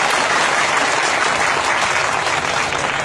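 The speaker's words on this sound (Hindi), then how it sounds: "ताली बजाइए।" A large audience at a speech claps loudly and continuously, a dense, sustained wave of applause filling the whole stretch.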